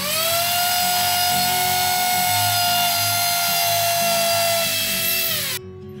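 A power drill bores into a wall during home DIY work, its loud, steady high whine running close and unbroken for several seconds before cutting off abruptly.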